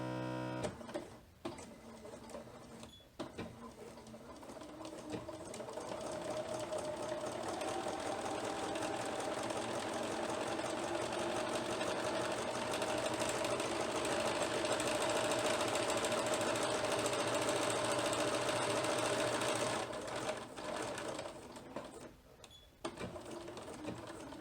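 A domestic sewing machine runs steadily through a quarter-inch seam joining fabric pieces for a zipper pencil bag, its even whirring hum continuing for most of the stretch with brief pauses at the start and end.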